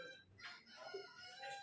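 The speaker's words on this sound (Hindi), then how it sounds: "किसी मुर्गा आ गया?" A rooster crows faintly in the distance, one drawn-out call with a few softer clucking notes, quiet and alone with no voices.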